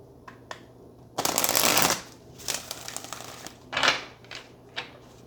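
Tarot cards are shuffled by hand in several crisp riffling bursts, the longest and loudest coming early, then shorter quick flutters with brief pauses between, close and clear in a quiet room.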